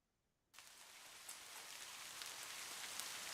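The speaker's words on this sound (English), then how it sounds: "Rain's falling." Steady rain switches on abruptly after brief quiet and keeps falling as a dense, even hiss of drops on surfaces, close and continuous, with no voices.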